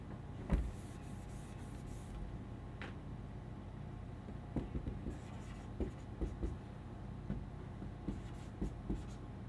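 Chalk or marker strokes on a board during a physics lecture on vibrations, a series of faint scratchy taps and squeaks at a steady pace over a low background hum.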